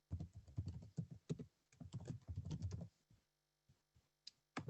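Someone types a search on a computer keyboard in quick bursts of close, crisp keystrokes. A brief pause falls between the runs, then a few final taps, with no talk over it.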